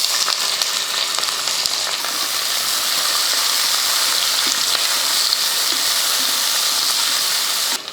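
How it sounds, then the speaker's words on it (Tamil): Onions frying in hot oil with whole spices such as cardamom, cloves, bay leaf and star anise for biryani, giving a steady, close sizzle with faint clinks throughout. "வெங்காயம் நல்லா வதங்கட்டும்."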